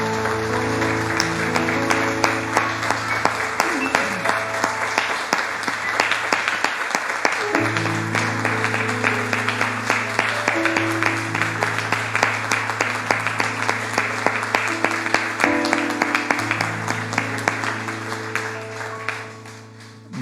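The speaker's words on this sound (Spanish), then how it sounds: "Le damos un aplauso al Señor, hermanos." A church congregation applauds at length, sustained clapping over held musical tones, with a voice speaking now and then.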